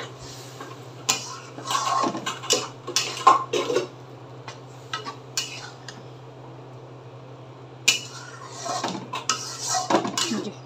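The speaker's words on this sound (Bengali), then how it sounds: "জলটার সাথে এটা সবটা মিশিয়ে দিলাম।" A spoon scrapes and clinks repeatedly against a metal pan in irregular bursts, mixing a mola fish dish with water, with a faint steady hum underneath.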